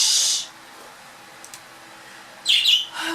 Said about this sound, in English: as soon as I start talking, the birds start chirping louder.